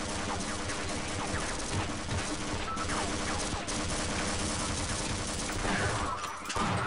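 Gunfire in the Half-Life 2 Episode Two video game rattles steadily as a dense, continuous barrage throughout, fairly faint and mixed with busy game noise, without clear talk.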